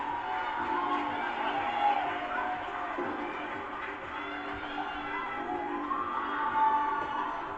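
A TV studio audience cheers and applauds at a music talent show semi-final, a dense, steady crowd roar with whoops that swells near the start and end.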